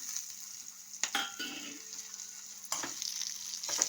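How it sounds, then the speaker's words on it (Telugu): Green chillies and curry leaves fry in hot oil for a lemon dal, giving a steady close sizzle broken by a few sharp spoon scrapes against the pan, with no talking. "ఇప్పుడు ఇది ఇలా వేగిపోయింది కరేపాకు కూడా వేగిపోయింది చక్కగా పచ్చిమిరపకాయలు వేగిపోయినాయి"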